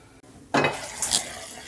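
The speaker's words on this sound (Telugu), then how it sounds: "వీటిని మధ్య మధ్యలో కలుపుతూ ఉండాలి, మరి మాడనివ్వకండి." Tomato chutney frying in a pan for idli is stirred with a utensil, producing a sudden close sizzle and scraping against the pan that continues steadily with a few louder scrapes.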